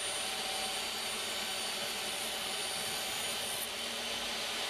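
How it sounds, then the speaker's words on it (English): Table saw cutting a plywood box bottom to length, a steady, loud, continuous whine with no speech. "reference that on the table saw. And then I can just cut that bottom to the correct length."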